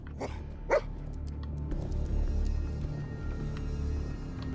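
A dog in the video game Fallout 4 gives two quick barks at the start, then fades into a low, steady game ambience.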